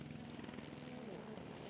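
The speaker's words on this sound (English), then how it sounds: "They got the helicopter following them." Helicopter flying low over a rally stage, its steady rotor and engine drone continuous and fairly loud under excited talk.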